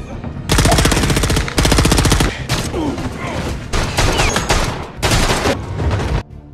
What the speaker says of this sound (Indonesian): Alex yang tak sengaja melihat anak buah Shibar, terjadilah baku tembak di antara mereka